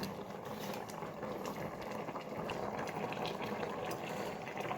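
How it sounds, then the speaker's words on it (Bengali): Pieces of fried fish going one by one into a simmering mixed vegetable curry, a steady close bubbling and crackling simmer with faint irregular clicks, no voices. "রান্নার মাঝামাঝি সময় আমার ভেজে রাখা মাছগুলি আমি এখন একটা একটা করে দিয়ে দিব"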